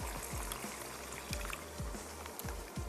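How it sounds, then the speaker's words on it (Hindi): Water pours into a pan of tomato paste and spices while cooking karahi, a soft continuous stream and trickle close by, with faint low thumps underneath and no talking. "मैं इसमें शामिल कर दूंगी थोड़ा सा पानी, ताकि जो मसाले हैं वो इसके साथ पकना भी शुरू हो जाए।"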